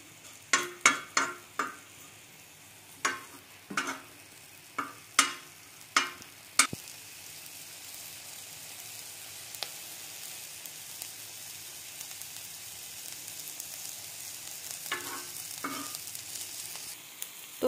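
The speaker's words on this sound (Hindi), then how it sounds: "अब हमने हरी मिर्चों को थोड़ा सा ऑयल डाल के इनको हमने लाइट लाइट सा फ्राई कर लेना है" Green chillies lightly frying in oil, with a quiet steady sizzle running throughout and a run of sharp spoon taps and knocks against the pan early on, then a few more near the end.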